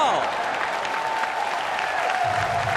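Packed baseball stadium crowd at a Milwaukee at Pittsburgh game keeps up a loud, unbroken cheer during a drawn-out at bat, a thick wash of shouts and whistles with no pause.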